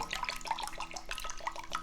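Water being poured into a pork loin brine, a steady splashing, trickling flow heard up close with small drips throughout and no talking.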